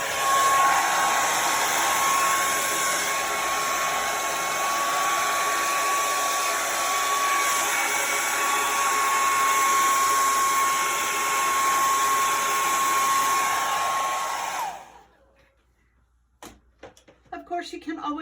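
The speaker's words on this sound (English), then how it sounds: "you can always speed up the process by using a blow dryer." Blow dryer running steadily at close range to dry wet-on-wet paint on a painting, a continuous loud whir with a steady whine, shutting off abruptly near the end followed by brief faint handling sounds.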